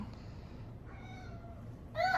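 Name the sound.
cat meowing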